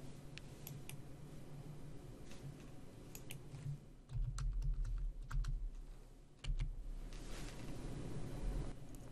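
Steady, close clatter of computer keyboard typing as serial numbers are entered into barcode editor software, with irregular key clicks and a few heavier thuds throughout and no talking.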